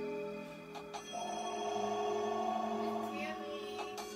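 A telephone rings in an animated cartoon with a steady electronic tone that holds for a few seconds under a busy background, moderately loud.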